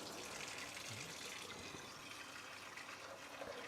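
Tap water runs steadily into a container while mixing film developer, a continuous faint hiss and splash with no talking.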